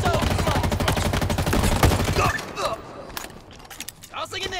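Rapid automatic gunfire in Halo Infinite rattles in a dense, loud stream for about two seconds, then gives way to scattered shots, clicks and mechanical clatter during a team objective match.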